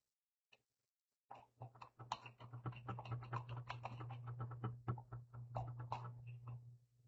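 Keys tapped on a computer keyboard in a quick, steady run of soft clicks after a single early tap, close and quiet, with no talking.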